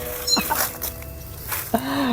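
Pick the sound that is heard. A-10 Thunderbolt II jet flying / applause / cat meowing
cat meowing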